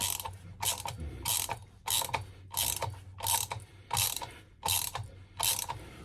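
A hand ratchet working on the front brake discs and pads of a 2016 Harley Davidson Road Glide, clicking in eight evenly spaced, close bursts of rapid pawl ticks with brief gaps between strokes.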